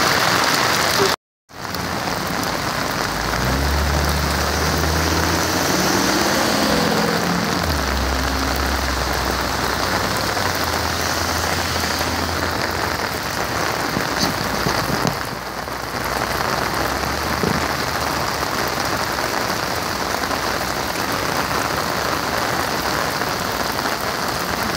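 Heavy rain drums steadily on flooded streets, a dense close hiss with a low rumbling undertone, cut briefly near the start and otherwise continuous.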